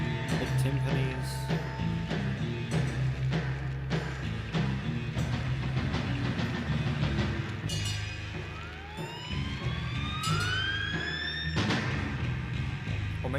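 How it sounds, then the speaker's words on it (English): A train whistle sound effect in music sounds as rising, wailing sweeps over dense, loud orchestral playing with pounding percussion, the whistle bursts surfacing repeatedly near the end. "The train whistle going off, the slide whistle, big timpanis."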